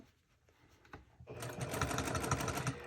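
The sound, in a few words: sewing machine backstitching a purse seam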